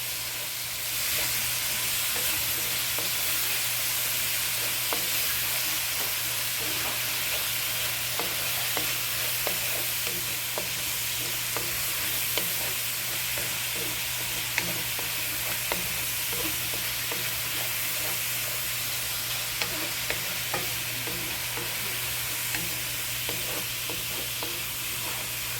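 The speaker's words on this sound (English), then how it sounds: "Now add our basil and parsley, whole bunch of parsley, entire bunch of basil. Stir that all in." A yam stew bubbles and sizzles steadily in a pot as a whole bunch of basil and parsley is stirred in, with a constant close hiss and soft scraping of a spoon throughout, no talking.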